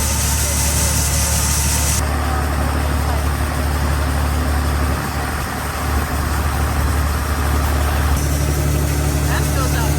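An Allis Chalmers L3 combine's engine runs steadily during a corn harvest, a loud continuous low drone with a mechanical hum that barely changes for ten seconds.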